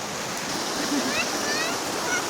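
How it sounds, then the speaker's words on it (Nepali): Waterfall rushing in a steady, broad roar, close and loud, with a faint voice briefly audible beneath the water. "फाइनल्ली हामी चाहिँ झरनामा आइपुगिसकेको छौँ है त गाइस।"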